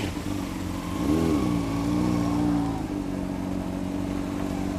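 A Honda CBR 600RR sport motorcycle revs up briefly from idle, the engine note rising and holding before settling back to a steady close idle.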